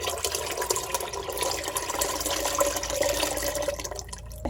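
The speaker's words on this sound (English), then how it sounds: "we're going to just drain the lye solution in." Lye solution drains into a container of soap oils in a soap-making session, a soft steady trickle and splash of liquid heard up close and alone.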